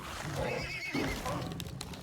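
A horse neighs and whinnies in the survival video game Icarus, a loud, close call over steady clip-clop hoofbeats and background game noise, filling the short stretch.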